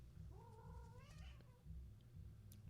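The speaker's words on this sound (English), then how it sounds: "Cats, calm down." A cat meows once with a drawn-out rising and falling call, close by over a steady low hum of background noise, followed by faint small sounds.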